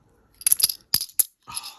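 Plastic board game tokens from a Marvel United: X-Men set clatter in several short bursts, bright clicking rattles close by with brief pauses between handfuls, ending in a longer shuffling rattle.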